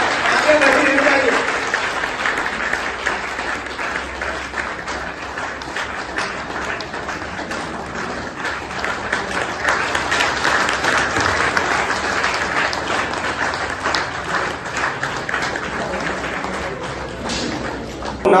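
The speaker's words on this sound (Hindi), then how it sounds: "जोरदार ताली दोस्तों, आगे बढ़ी रहनी चाहिए।" Loud, sustained applause from an audience at an indoor wellness-products meeting, steady clapping throughout with a crowd murmur underneath.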